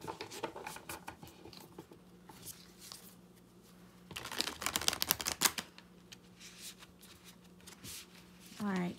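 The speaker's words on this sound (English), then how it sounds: "Let me give it a little shuffle" Tarot cards are shuffled up close in quick riffling bursts, with a louder flurry midway. A voice speaks briefly at the end.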